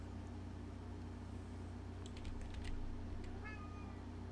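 A cat gives a short meow late on, faint over a steady low hum and scattered soft clicks, with no talk.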